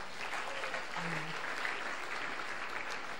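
A church congregation applauds couples during a French-language service, a brief burst of scattered clapping that stays fairly faint and distant, with a short voice sound partway through.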